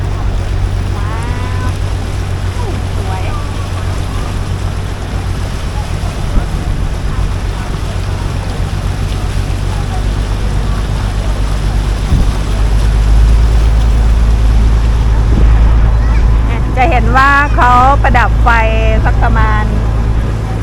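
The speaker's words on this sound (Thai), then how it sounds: "ตอนนี้เรือก็ ออกจากท่าเรือตรงหัวลำโพงนะ" A boat pulls away from the pier at Hua Lamphong in Bangkok with a loud, steady low engine rumble and water noise throughout. Birds chirp briefly near the end.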